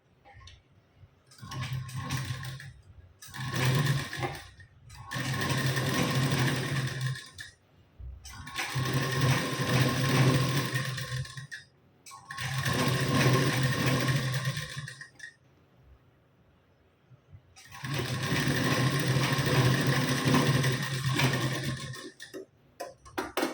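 A sewing machine stitches a blouse piece and its lining in several separate runs of steady mechanical whirring, each lasting a few seconds with quiet pauses between. It sounds close and moderately loud, with no speech.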